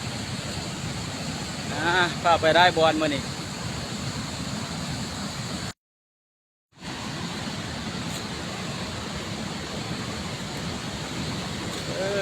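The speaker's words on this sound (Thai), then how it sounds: "น้ำตกตาหัวคน" The Tad Hua Khon waterfall in Attapeu, Laos, makes a steady, loud, broad roar. A voice speaks briefly early on, and the sound cuts out for about a second.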